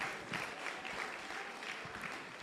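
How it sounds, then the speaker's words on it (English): Audience at a children's summit in Africa applauding steadily, a dense wash of many hands clapping throughout at moderate volume with no speech over it. "Let's just clap for them because I've seen beautiful shots."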